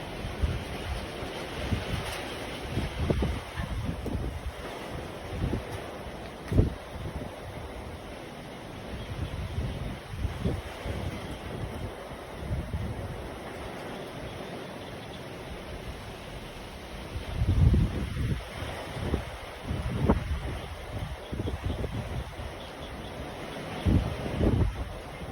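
Gusty wind ahead of an approaching rainstorm buffets the microphone in uneven bursts, with a low, rushing roar rising and falling throughout.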